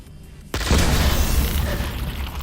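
A grenade goes off in Half-Life: Alyx after half a second of quiet, a sudden loud boom followed by a sustained rumbling roar that fades only slightly over two seconds.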